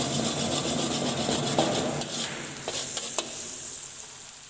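Chopped green chilies frying with ginger and garlic in a pan, a continuous close sizzle with rubbing, scraping strokes of a stirring spoon and a few sharp taps.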